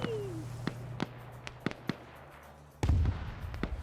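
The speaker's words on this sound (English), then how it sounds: "So that was an HE frag round" High-explosive fragmentation round going off in a video game: a sharp blast with a rumbling tail near the end, after scattered crisp pops over a faint whine.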